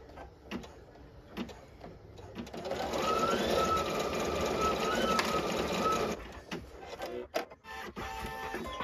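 An embroidery machine stitches black thread on an in-the-hoop school bus snap tab, a steady close mechanical whirr running for several seconds between short stops and starts.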